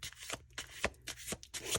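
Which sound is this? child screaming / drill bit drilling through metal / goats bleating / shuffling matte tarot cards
shuffling matte tarot cards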